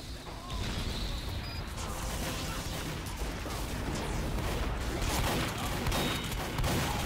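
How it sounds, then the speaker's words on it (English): Shotgun blasts and chaotic combat noise in the video game Team Fortress 2, a steady dense barrage of bangs and clatter at close range with no clear pauses. "Our first kill with the shotgun"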